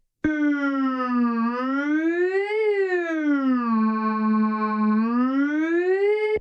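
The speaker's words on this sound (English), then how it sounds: "Ambulance sound, why not?" A loud electronic ambulance-style siren tone from a JimAudio Groove Rider 2 synthesizer, sweeping slowly up and down in a steady wail, buzzy and synthetic, alone without any voices.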